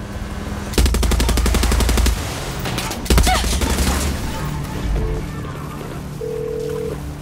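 Rapid automatic gunfire from a Far Cry 6 firefight, loud and close, with sustained bursts near the start and again after a short pause, then scattered lighter shots and mechanical clatter.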